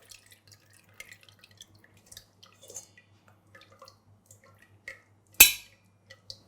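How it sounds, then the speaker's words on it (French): Garlic-infused cream strained through a sieve drips in scattered, quiet drops, with one sharper splash near the end, in a silent kitchen. "Lorsque l'ail est confit, nous filtrons la crème"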